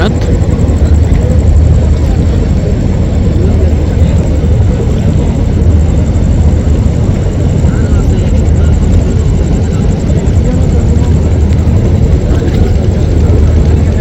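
A crowded passenger launch, the Sourabhi-7, churns its heavy engine in reverse gear, a loud continuous low rumble close by, with someone talking over it throughout.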